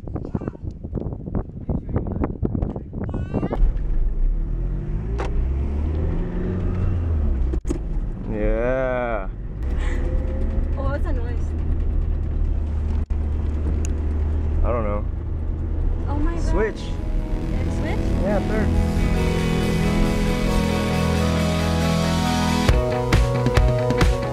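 Car with a manual stick shift being driven, a continuous close engine drone and road rumble throughout, with people talking and laughing inside the car over it.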